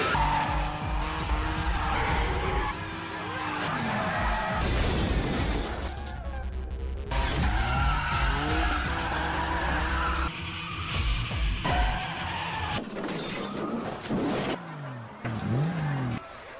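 A car drifting in the film Tokyo Drift, with engine roars, squealing skidding tyres and sharp pops sweeping past amid loud film music and effects over about seventeen seconds.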